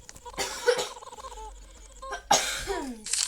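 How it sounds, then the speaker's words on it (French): A person coughs a few times in harsh, raspy bursts, close up, with short pauses between them. "Ah, attends, je vais tousser."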